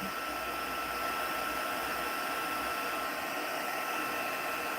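An embossing heat tool blows a steady, loud, close whirring hiss without pause as it heats embossing on a masked shiny penguin card.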